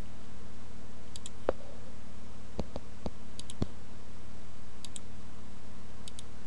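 Computer mouse clicking while drawing in Inkscape: a handful of crisp, isolated clicks spaced irregularly over a steady low hum, close and fairly quiet, with faint paired ticks in the background.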